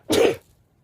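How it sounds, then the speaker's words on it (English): A single short, explosive burst of breath, loud and close, lasting about a third of a second before fading into near silence. "I think I feel a sneeze coming"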